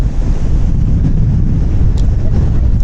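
Strong gusts sweep a Welsh coastal path, a loud continuous rumble of wind battering a microphone despite its furry windshield, with surf roaring beneath it throughout.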